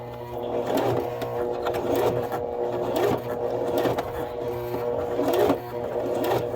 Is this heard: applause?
no